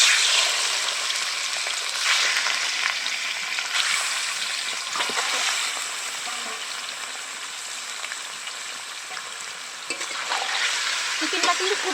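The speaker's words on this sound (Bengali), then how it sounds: "এবার চিকেনগুলো আমি কড়ার মধ্যে দিয়ে দিচ্ছি।" Chicken pieces sizzle and crackle in hot oil in a wok as they are stirred, a continuous close frying hiss with occasional scraping bursts.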